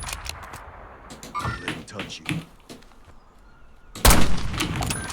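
Gunfire in a multiplayer shooter video game: scattered sharp shots crackle through the first seconds among quieter game noise, then a loud dense burst erupts near the end, with a voice speaking briefly amid the action.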